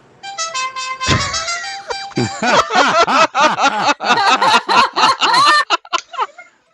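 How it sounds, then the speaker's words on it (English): A car horn blares the Dixie tune in many short musical honks, loud and close, following an initial held tone. "a car from hell would have a Dixie horn"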